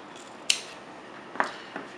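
Scissors snipping excess cotton wick on a Floud rebuildable atomizer, with two crisp close metallic snips and a fainter third cut, over quiet background.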